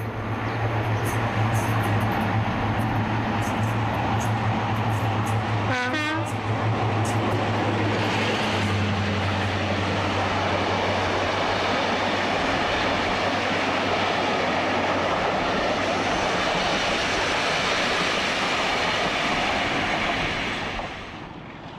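A classic British diesel locomotive rumbles past with a heavy low drone and a dense broadband roar that holds steady for about twenty seconds before easing off at the close.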